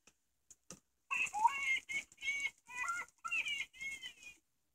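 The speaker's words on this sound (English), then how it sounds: "it says shake Snoopy to hear him" A shaken plush Snoopy toy gives out a series of chirpy, squawking electronic bird-like calls in about five quick bursts after a few faint rattles, close and fairly clear.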